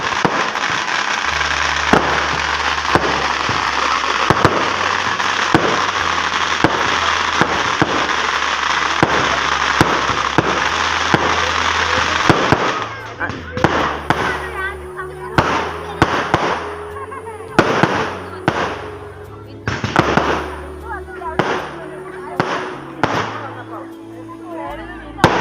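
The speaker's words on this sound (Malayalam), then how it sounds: "അതിൻ്റെ ഇടയ്ക്ക് നേരെ വെടിക്കെട്ട് ഉണ്ടായിരുന്നു." Fireworks at a temple festival: a dense, continuous roar of crackling bursts for about half the time, then separate sharp bangs and pops at irregular intervals.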